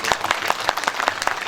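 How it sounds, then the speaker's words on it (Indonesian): A school audience at a civic education session in Jakarta bursts into applause, a dense, steady patter of many hands clapping together, moderately loud and filling the room without pause. "Tepuk tangan."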